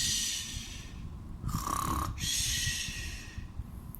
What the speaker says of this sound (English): At last, the woman heard the Flying Head snoring.